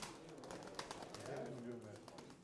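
Pigeons coo in low, throaty tones at a pigeon sale where birds are being auctioned. People talk loudly over the cooing, with a busy background din throughout.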